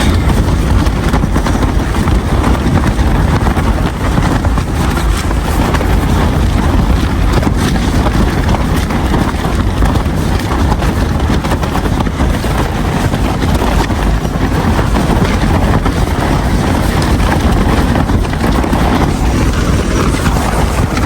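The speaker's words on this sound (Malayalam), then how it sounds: "നല്ല കാറ്റും അയ്യോ ടെൻറ്റൊക്കെ പൊക്കി എടുക്കുന്നു" Strong night wind batters a tent on open Mongolian land, a steady loud roar with buffeting gusts and rumbling against the fabric and microphone, no talk.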